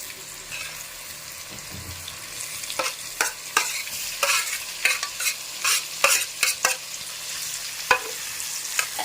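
Peeled drumstick pieces fry in oil for a pickle. Soft sizzling runs underneath while a utensil stirs and scrapes the pan in a series of close, rhythmic clanks that grow more frequent partway through, with no voices.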